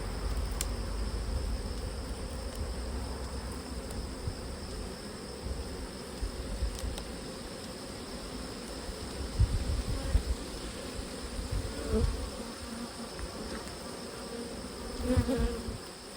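Bees buzz continuously all around, a dense droning hum with individual insects passing closer now and then.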